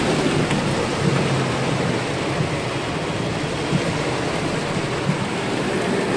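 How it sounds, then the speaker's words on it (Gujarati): Heavy rain pouring over Junagadh city, a dense, loud, continuous downpour with low thunder rumbling beneath and no voices. "વરસાદ આવ્યો"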